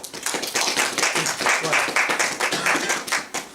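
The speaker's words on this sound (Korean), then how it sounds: "박수요." Audience applause at a university lecture at Kangwon National University's Dogye campus: a dense, steady wash of clapping from a room of listeners that fills the whole moment at a fairly close, even level.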